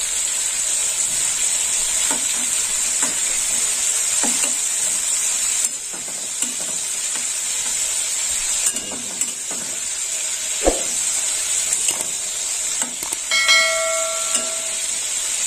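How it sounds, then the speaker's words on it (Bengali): Prawns frying in hot oil in a pan give a steady, close sizzle and hiss throughout, with occasional clinks and scrapes of a utensil as the pieces are turned, and a few brief tonal squeaks near the end. "এবার আমি চিংড়ি মাছগুলো ভেজে নেব।"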